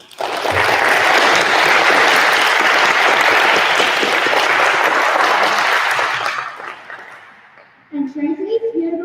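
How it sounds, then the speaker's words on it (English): A large audience at a Grade 5 graduation breaks into sustained, loud applause that holds for several seconds, then fades away, with a voice speaking briefly at the end. "please give them a huge round of applause"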